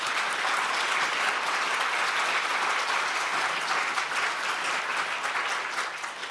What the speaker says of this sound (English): I might give them another round of applause